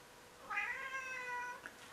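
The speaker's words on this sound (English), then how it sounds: "Oh, that's my cat." A house cat meows once, a clear drawn-out tonal call lasting about a second, close and fairly quiet in a still room, followed by a brief soft chirp.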